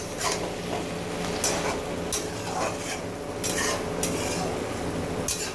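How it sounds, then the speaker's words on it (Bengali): Okra cooking in a pan on low gas is stirred with a utensil, producing a steady sizzle broken by repeated sharp scrapes and clinks against the pan, loud and close. "ঢাকনা খুলে আমি নেড়ে দিয়েছি,"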